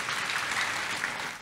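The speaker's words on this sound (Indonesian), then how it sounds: "Tepuk tangan yang meriah buat Tuhan Yesus." A church congregation breaks into lively, sustained applause for Jesus during a sermon, a dense wash of many hands clapping together without pause.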